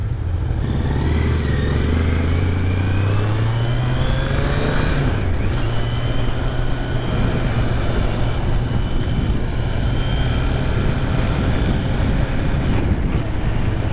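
A 2023 Kawasaki Z900 900 cc four-cylinder naked sport bike underway, its engine note climbing through the gears, dipping briefly at a shift and then holding a steady drone beneath heavy wind rush, loud and continuous with no talking.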